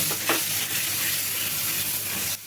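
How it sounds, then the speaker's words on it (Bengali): A paste of green chilli and tomato masala frying hard on a high flame in a pan for a lote fish curry, with a dense, steady sizzle and hiss through the whole clip before it cuts off abruptly at the end. "কাঁচা লঙ্কা, টমেটো দিয়ে যে পেস্টটা বানিয়ে রেখেছিলাম সেটা দিয়ে এবার ভালো করে হাই ফ্লেমে কষিয়ে নিচ্ছি আমি"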